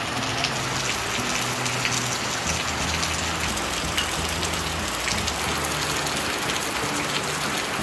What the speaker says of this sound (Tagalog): kanina pa ulan ng ulan